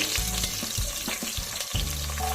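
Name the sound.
frying spices and onions for veg pulao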